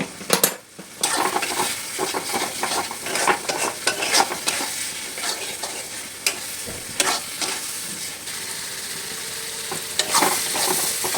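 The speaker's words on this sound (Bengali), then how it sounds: "তেল না ছাড়া অবধি মশলাটাকে ভালো করে কষিয়ে নিতে হবে" Spice paste stir-fried in a pan with ginger-garlic water added: continuous loud sizzling under repeated scraping and clinking of a spatula against the pan, close up and with no talking.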